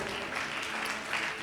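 A congregation at a Tamil Christian church service claps together in a brief burst of applause, fairly faint and diffuse, with no voices over it.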